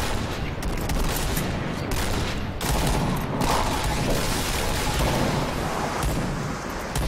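Dense, continuous gunfire in the online shooter Point Blank, bursts of rapid shots and booms filling the whole stretch loudly with no pauses, close and harsh.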